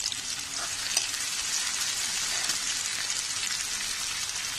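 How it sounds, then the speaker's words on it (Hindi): Finely chopped onions fry in two spoons of hot oil in a kadhai, giving a steady, dense sizzle that stays even and close throughout with no talking. "ये मैंने कढ़ाई में 2 चम्मच तेल गरम कर लिया है और अब इसमें कांदा डाल देंगे।"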